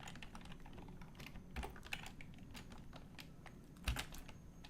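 Steady typing of code on a computer keyboard, quick irregular key clicks running throughout with a couple of louder keystrokes standing out, close and fairly quiet.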